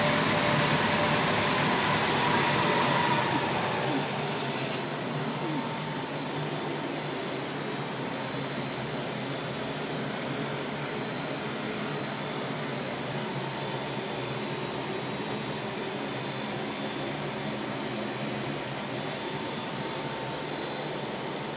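A tuned 2-liter 8-valve Lancia Dedra engine making 485 hp roars on a dyno at high, steady revs for a long stretch, loud and close, with a brief louder surge at the start and then a constant drone.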